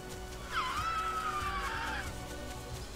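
A dinosaur in The Isle lets out a single call, a faint, drawn-out whistling cry that rises sharply then glides slowly downward over about a second and a half, heard over low background noise.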